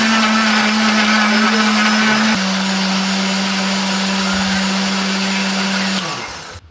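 A kitchen blender purees chili, shallots, turmeric, candlenut and garlic with a splash of water into a smooth spice paste, its motor roaring loud and steady, dropping slightly in pitch partway through, then winding down as it switches off.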